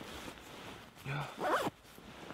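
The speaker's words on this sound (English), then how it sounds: "The zipper doesn't stay shut either on this thing." A sleeping bag zipper is pulled in two quick rasping strokes, close and fairly loud, on a solo wilderness camping trip, with quiet ambient noise around it.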